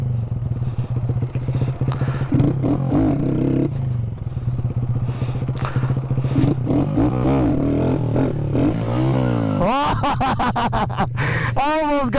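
Honda Grom motorcycle revving during a wheelie attempt, a loud buzzing small-engine drone under close voices and laughter, with sharp rising and falling rev sweeps near the end.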